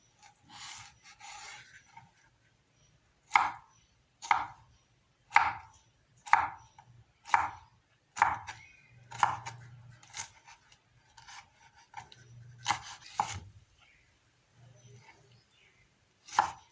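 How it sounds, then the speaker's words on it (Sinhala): Knife chopping and cleaning a whole pineapple, a series of about ten rhythmic close strokes, each a brief crisp rasping cut, with softer scraping between them and no talk. "මං හොඳට සුද්ධ කරා අන්නාසි ගෙඩිය."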